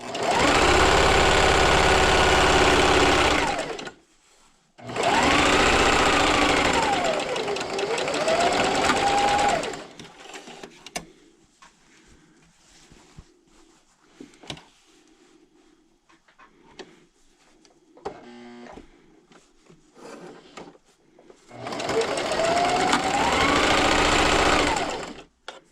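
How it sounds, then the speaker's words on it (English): A sewing machine stitches a fabric bandana with a quarter-inch seam, running in three long, loud bursts with a rising and falling motor whine, separated by quieter stretches of handling and small clicks. "I'm using a 1/4 inch seam allowance, and then I'm going to sew all the way down."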